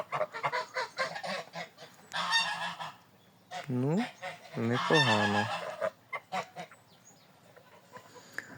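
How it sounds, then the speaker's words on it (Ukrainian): Geese, including a young goose, honk loudly in repeated bursts, with a short spoken phrase heard between the calls. "до них молода гуска прибивається"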